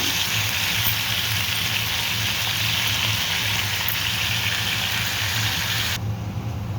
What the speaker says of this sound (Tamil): தக்காளி வதங்கும்போது வெந்தயக்கீரை போட்டுக்கோங்க